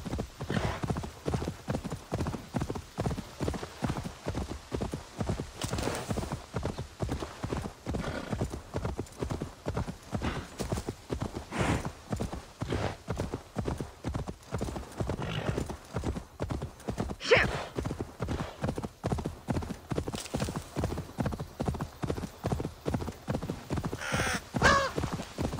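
Horse hooves clip-clop in steady rapid rhythm throughout the video game Assassin's Creed Valhalla, a continuous galloping beat with occasional bird caws and whinnies over it.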